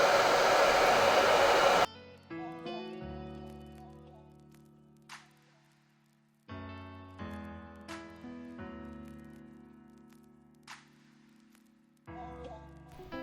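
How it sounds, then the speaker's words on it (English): A hair dryer set to low heat blows loudly for under two seconds while drying freeze spray on a wig install, then cuts off as soft music takes over. "I'll be using a hairdryer at low temperature to dry up my"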